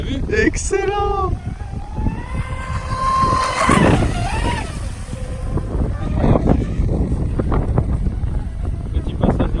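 A Proboat Sonicwake 6S radio-controlled boat speeds past on open water outdoors, its high motor whine rising and falling as it goes by. Wind buffets the microphone and people talk over it.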